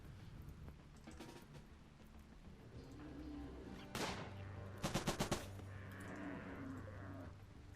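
Burst of machine gun fire in the Rimworld colony game during a raid, a few rapid cracks around the middle standing out over a busy, noisy background.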